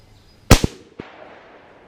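A CMMG AR rifle in 350 Legend fired once at a 10-yard target, a single loud, sharp crack followed by a brief echo off the surroundings, then quiet.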